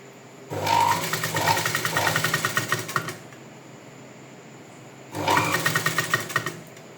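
A sewing machine stitches piping onto a blouse front in two runs, a rapid steady whirring rattle for about two and a half seconds, a pause, then a shorter second burst, close and alone.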